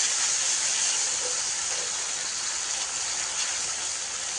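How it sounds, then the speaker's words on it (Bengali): Turmeric and chili powder stirred in a hot pan of oil give off a steady, loud, bright hiss that holds evenly throughout, with no voices. "এবার সুন্দরভাবে নেড়ে চেড়ে নিচ্ছি"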